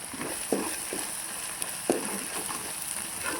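Onion paste fries in a pan with a soft, steady sizzle, quiet and close, broken by a couple of light stirring scrapes and clinks.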